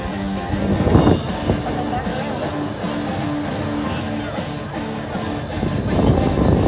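A Ventura County Fire Department helicopter drones steadily with a deep, throbbing engine rumble, loud and close, with a faint voice now and then underneath.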